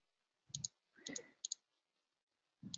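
Mouse clicks on an OK button at a computer, heard as several sharp paired clicks spaced across a quiet background, with faint low thumps alongside.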